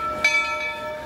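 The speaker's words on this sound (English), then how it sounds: "As the train is coming in on this historic day," A train pulls into a station with a steady metallic ringing hum and a brief clank near the start, moderately loud and close, with no voices.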